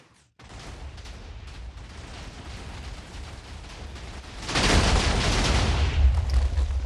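Cannon shot in a Minecraft-style block game blasting a long tunnel through a wall of blocks: a steady crackling rumble that swells into a loud, dense burst of blasting near the end, with no talking.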